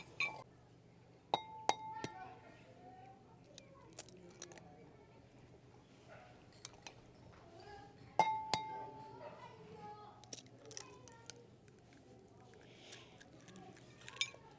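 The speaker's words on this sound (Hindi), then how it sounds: "इनको भी अच्छी तरह से हमने मिक्स कर लेना इसके अंदर" Eggs are mixed into a potato cutlet mixture in a bowl: quiet, irregular clinks of a utensil against the bowl and soft squishing, close by, with occasional sharper taps.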